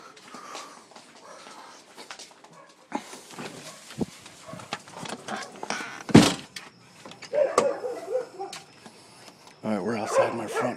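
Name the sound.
dogs barking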